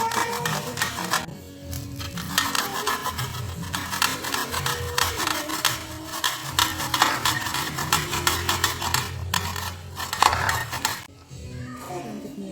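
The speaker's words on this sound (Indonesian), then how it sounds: "Kemudian bawang merah dan kencur kita aduk sebentar." Shallots and kencur (aromatic ginger) stirred in a pan, with repeated scraping and clinking of a utensil against the pan and close, uneven strokes throughout.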